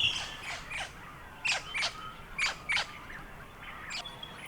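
A wedge-tailed eagle at its nest gives a run of short, sharp squawking calls in rhythmic pairs, clear and fairly close over a quiet outdoor background.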